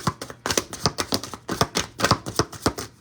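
Tarot cards are shuffled by hand in a quick, steady run of crisp clicking riffles and flicks, close and fairly loud, with no talking.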